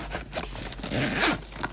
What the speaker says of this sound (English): And I could zip it or leave it unzipped.